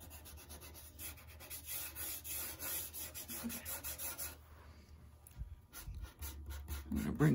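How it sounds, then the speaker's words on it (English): Soft, close scratchy rubbing of a pastel stick on paper while a landscape is worked, in short repeated strokes, faint and continuous with brief pauses. "Just rubbing straight down from there."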